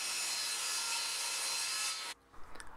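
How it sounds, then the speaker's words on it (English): A handsaw cutting a 45 degree angle across the end of thin plywood, a dense, steady rasp that runs for about two seconds and then stops abruptly, leaving near silence. "I cut a 45 degree angle to match the ruler on the end of the plywood"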